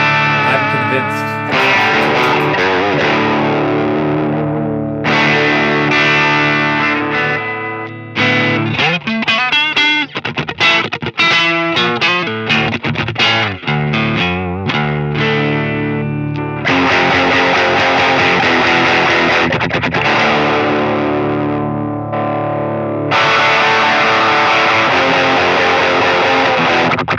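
Electric guitar played through a Line 6 POD Express amp modeller, moving between sustained heavy distorted chords and clean passages, with busier choppy riffing in the middle, loud and close.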